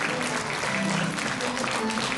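A seated audience at the 2016 Lingjiushan Tainan Puren award ceremony applauds in a dense, even roar of many hands that stays full and continuous from start to finish.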